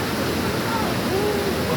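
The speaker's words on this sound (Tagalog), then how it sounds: "So ayan guys, baha." Floodwater rushing with strong waves, a steady broadband roar that fills the whole clip without a break.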